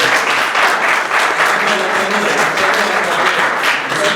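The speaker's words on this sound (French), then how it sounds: "Vous avez entendu les applaudissements." Audience applause at a club event, a dense steady wash of many hands clapping throughout, loud and close with no pauses.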